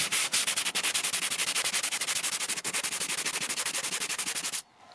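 Rapid, even back-and-forth strokes of 60 grit sandpaper rubbed by hand over wood siding, a loud rhythmic scratching of about ten strokes per second that stops abruptly near the end.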